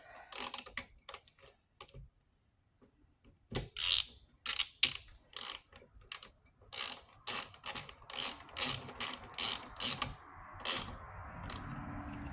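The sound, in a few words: Craftsman V Series ratchet clicking as the socket spins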